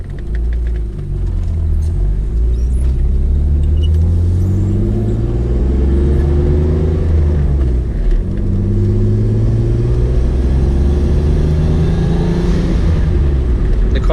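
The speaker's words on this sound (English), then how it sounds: "I just love the blowout valve and the turbo spool" A turbocharged BMW E36 M3 engine of about 500 wheel horsepower revs loudly and close, with rising and falling pitch sweeps and blow-off valve and turbo spool sounds as it accelerates and shifts, continuous rumbling throughout.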